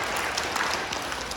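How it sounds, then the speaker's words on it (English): A live audience claps together in a brief burst of applause, a dense steady patter of hands with no voices over it. "We give these guys a round of applause."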